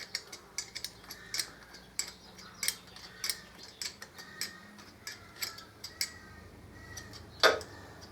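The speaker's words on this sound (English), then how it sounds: "and then I'll get my torque wrench out." A torque wrench ratchets while tightening the lifter bolts on a 2005 Harley-Davidson Electra Glide, giving a close series of light, irregular metallic clicks and ticks, fairly quiet.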